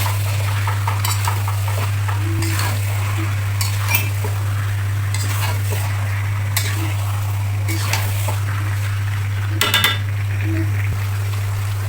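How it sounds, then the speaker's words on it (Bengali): Beef being stirred with spices in a cooking pot, after about an hour of slow frying; steady scraping and clinking of a utensil against the pot over a constant low hum, with faint sizzling and no talk. "এখন আমি নেড়ে চেড়ে সব মশলার সাথে মিশিয়ে দেবো।"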